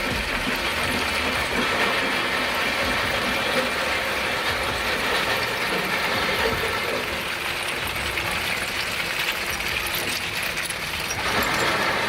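SBR5 vibrating screen with 20x20mm mesh sorting crushed scrap debris into fractions, a steady dense rattling and clattering that holds constant and loud throughout, with no talk.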